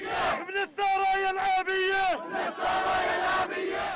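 Crowd surrounding a hostage handover convoy in Gaza, loud massed shouting and chanting voices rising and falling in waves, close and continuous with cries layered over one another.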